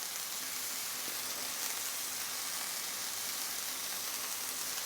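Ground meat and onions sizzling on a hot griddle pan for a chopped cheese bowl, a steady bright crackling hiss with no talk over it.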